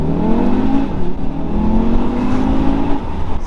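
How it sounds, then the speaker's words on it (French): Audi TT RS with a 400 hp turbocharged engine accelerating, its engine note climbing steadily through the revs in a loud, close in-car drone, with no talking. "Il prend un peu de temps quand même à prendre en charge le turbo."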